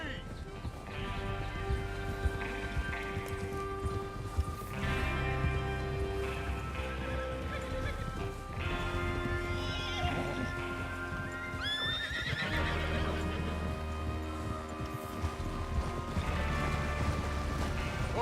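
Horses neigh and clop in the Red Dead Redemption 2 video game, with hooves pounding and tack rattling under a musical score while voices talk over the scene.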